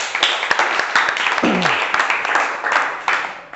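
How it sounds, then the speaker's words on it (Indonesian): Classmates applaud a student presentation in a teacher-training class session, with dense, steady clapping filling the whole stretch, fairly loud and close, and a faint voice mixed in. "kita berikan tepuk tangan untuk Oka ya."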